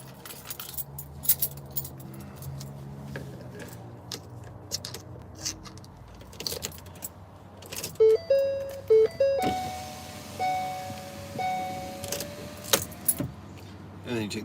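Car keys jangle in the ignition with light metallic clinks amid soft interior noise, then several chimes and beeps sound close by as someone talks.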